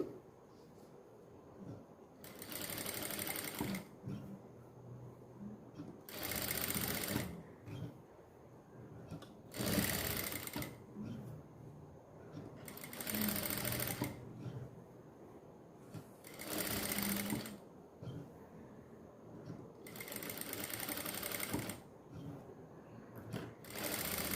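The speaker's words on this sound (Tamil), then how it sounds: "இப்போ இதுலேயே நம்ம வந்து மேல் தையல் போட்டுடலாம்" A sewing machine stitches a scallop neckline in repeated runs of fast, steady whirring, each lasting a second or two, with quieter pauses between bursts as the fabric is repositioned.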